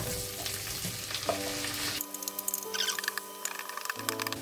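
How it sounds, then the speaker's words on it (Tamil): Onions and cashews added to a hot pan for millet chicken biryani, a sizzle that shifts as they drop in, followed by light crackling and stirring scrapes, close and without speech. "வெங்காயம் போட்டுக்கிறேன்."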